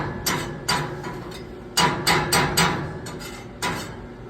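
Welding rod repeatedly scratched and struck against metal to start an arc, giving a series of sharp scraping bursts with brief crackles, fairly close and without speech.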